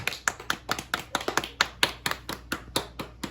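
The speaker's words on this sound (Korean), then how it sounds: "성공 박수" Group of people clapping together in a patterned, rhythmic success clap at a winter camp, sharp hand claps repeating in quick bursts, fairly loud and close, with no talking over them.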